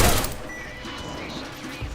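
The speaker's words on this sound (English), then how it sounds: "Here we've used an EMP frag grenade to disable the turret and armor-piercing bullets to destroy it." Armor-piercing rounds and an EMP frag grenade hitting a turret in Deus Ex: Mankind Divided, a dense burst of gunfire and mechanical clatter opening loud and staying busy for two seconds, with a voice talking over it.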